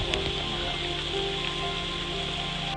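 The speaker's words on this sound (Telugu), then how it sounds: "ఇంకా వర్షం పెరుగుతూ ఉంది" Heavy rain pours down steadily during a trek, a dense continuous hiss of drops striking leaves and ground, close and even in loudness with no voices.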